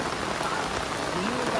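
Steady rain pours down over a Kambala buffalo race field, a dense, even hiss of drops hitting the ground and surfaces that stays constant and close throughout, with no clear voices on top.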